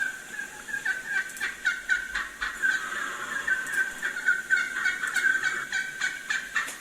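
A turkey gobbles and calls in a steady series of short, repeated notes, moderately loud and alone with no talking.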